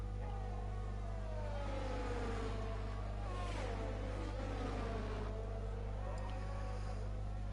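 McLaren Formula 1 car engine howling on a flying lap in a racing video game, the pitch sweeping up and down through gear changes over a steady low hum, moderately loud and continuous.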